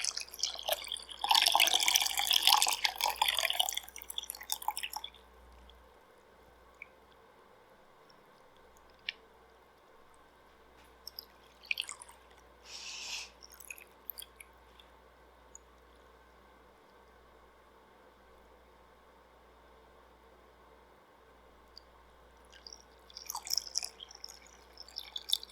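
Yarn is swished around in a dye bath, making bursts of wet sloshing and splashing followed by drips and small trickles into the liquid, with quiet gaps between the bursts.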